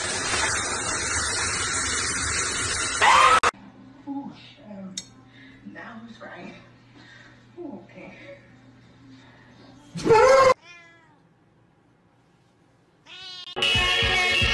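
A cat wails loudly while being bathed, its harsh yowls and meows breaking out in bursts between stretches of speech, with faint clinking of dishes or metal nearby.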